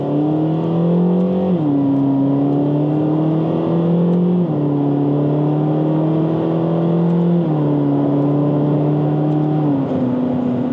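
A 2014 Ferrari California engine revs up steadily in a loud, continuous roar, pitch climbing and dropping sharply at each of three gear shifts, with no talking.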